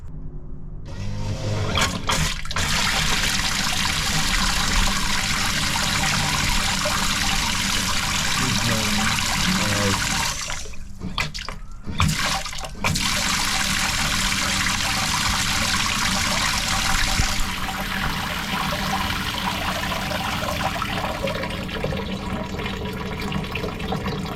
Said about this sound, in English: we're about to test the recirc, which is meant to take the water from the Livewell, bring it back up here, and spray it back into the Livewell